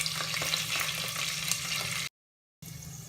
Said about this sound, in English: green chilies, and roast it for some time.